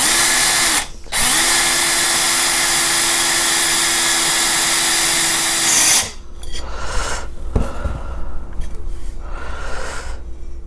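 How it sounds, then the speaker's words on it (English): Power drill boring through a bonsai pot while water is poured, a loud, steady high whine with a brief pause near the start, then stopping into quieter splashing and handling noises. "with one hand I will be throwing water, and the other I'm drilling, but without doing any pressure"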